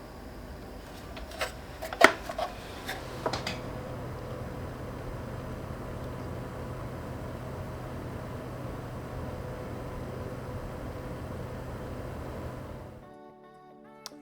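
A Nanlite FS300B 300-watt LED light's cooling fan gives a steady, fairly loud low hum with broadband whoosh, after a few brief knocks near the start, then cuts out abruptly near the end, leaving quiet.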